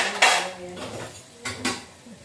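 Dishes, pots and cutlery clattering as they are put away in a home kitchen, with several sharp clanks and knocks in a short burst and no talk.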